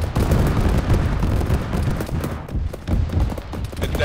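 A BTR's autocannon fires in a military video game as a dense, loud stream of rapid, crackling shots that continues steadily with no pause.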